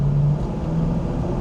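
Pontiac WS6 engine running with a low, throaty exhaust tone, a steady close rumble with slight rises in pitch.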